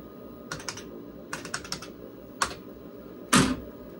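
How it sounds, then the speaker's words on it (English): Keys clack on a vintage IBM PC/XT keyboard in short bursts of quick, crisp typing, close and clear over a low hum, ending in one heavier, louder thump. "it's a nice keyboard to use."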